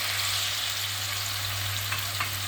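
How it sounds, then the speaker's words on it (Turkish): Peeled vegetables frying in hot olive oil give a steady, close sizzle and crackle with a low stove hum underneath, and a few faint stirring clicks near the end. "Kabuklarını soyup bu şekilde sıcak yağa ilave ediyorum"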